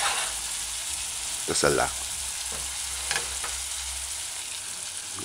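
Chicken pieces frying in coconut curry in a pot, a continuous close sizzle with a few brief stirring scrapes and knocks, a short spoken phrase over it.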